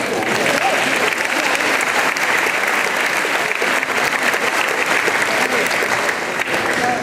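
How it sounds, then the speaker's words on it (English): An audience at an 8th grade promotion ceremony applauds in a sustained, dense burst of clapping that stays loud and even for several seconds, with scattered voices mixed in. "you deserve a round of applause also"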